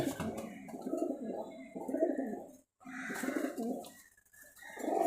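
A Giribaz pigeon cooing close up, a series of soft low rolling coos repeated in a steady rhythm with short pauses between.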